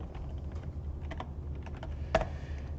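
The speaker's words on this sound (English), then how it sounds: "So if we double click, we're going to type sprite." Fingers tap on a computer keyboard in a quiet room, a run of light, irregular clicks with one sharper keystroke near the end, set over a low steady hum.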